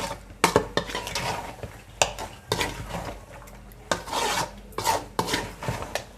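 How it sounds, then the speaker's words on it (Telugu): A spoon scrapes and rasps through chicken curry with tomato in a pan, a busy run of irregular stirring strokes with soft sizzling underneath and no voices. "కలబెడతాము."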